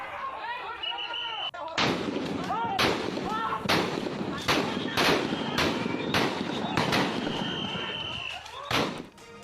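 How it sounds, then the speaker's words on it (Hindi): Army gunfire aimed at protesters in Sylhet: about eight sharp, loud shots spaced roughly a second apart, each cracking over a noisy crowd background, with a final shot near the end. "सिलहट की ये तस्वीरें हैं जहां एकदम सामने से गोली चलाते हुए आपको सेना नजर आ रही है"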